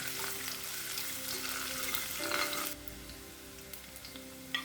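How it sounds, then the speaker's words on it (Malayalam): Ginger and garlic sauté in hot oil for a chickpea masala, a dense crackling sizzle that drops to a softer hiss partway through, with a few light stirring clicks. "ഇഞ്ചി കൂടി ചേർത്ത് അതിൻ്റെ പച്ചമണം മാറുന്നത് വരെ ഒന്ന് വഴറ്റാം."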